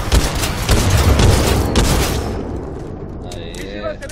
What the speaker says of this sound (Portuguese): Vou mandar uma granada aí pra você de presente aí